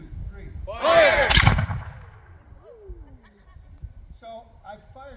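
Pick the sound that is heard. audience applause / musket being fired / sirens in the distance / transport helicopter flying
musket being fired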